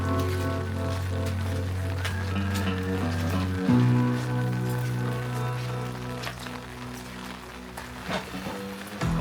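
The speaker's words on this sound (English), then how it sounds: "This is like being on the ocean right now with all this rain and wind." Heavy rain and wind batter a roof top tent on a Jeep, a steady wash of patter over a low engine-like drone that drops in pitch midway, then thins out.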